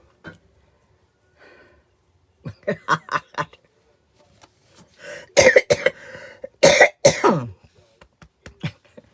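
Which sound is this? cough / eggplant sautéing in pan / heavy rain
cough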